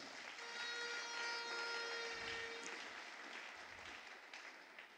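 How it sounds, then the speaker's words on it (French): A church congregation claps and cheers together to acclaim the Lord, a steady, dense wash of applause filling the room for several seconds with a faint sustained tone running beneath it. "On peut acclamer le Seigneur."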